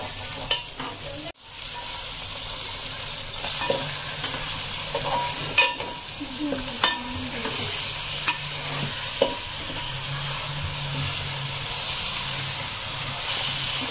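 Country chicken (naatukodi) fries and is stirred in a hot pan for a Sunday pulusu, a steady sizzle and steamy hiss broken by repeated scraping, clinking stirs close by, with no talking.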